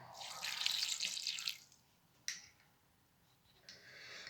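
Water pours into a pot of stewed vegetables and potatoes for nettle soup, a soft splashing rush for about a second and a half, then quiet with brief clinks and another short trickle near the end.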